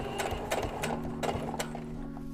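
A sewing machine runs in short stop-start bursts while bar tacking a strip of elastic on clothing, its needle whirring and clattering close by.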